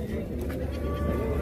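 Sheep and lambs bleat at the Kogon livestock market, a wavering cry over a dense, loud crowd murmur of people and animals.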